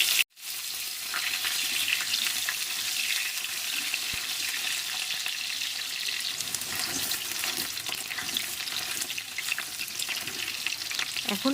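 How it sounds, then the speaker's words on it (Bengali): Cut potatoes fry in oil in a pan with bay leaf, a steady close sizzle running continuously with occasional stirring scrapes and no voices. "এখন আলুগুলি হালকা করে ভাজা হয়ে গেছে"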